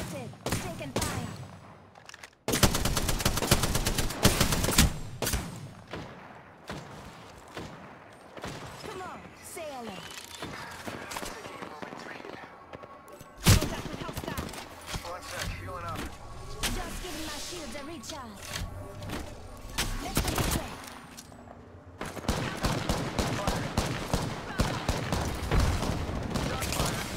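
Gunfire in the shooter Apex Legends, loud bursts of rapid automatic fire breaking out in several long stretches amid impacts and game effects, with a player talking in between.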